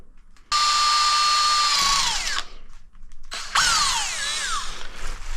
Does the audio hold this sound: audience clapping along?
no